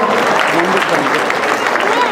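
Audience applause at a stage event keeps up steadily and loudly while a person speaks over the clapping.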